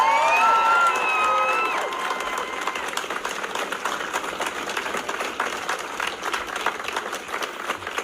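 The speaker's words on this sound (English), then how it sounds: "So I do want to thank, with a big round of applause from all of you, our veterans, current and past." An outdoor crowd at a veterans rally breaks into applause and cheering, with shouts and whoops loud at first, then settling into steady clapping that goes on at a moderate distance.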